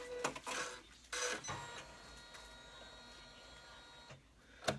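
A computerized embroidery machine top-stitching a fabric bag, running as a steady mechanical whir with rapid needle chatter, punctuated by a few louder clacks and bursts near the start and a sharp click at the end.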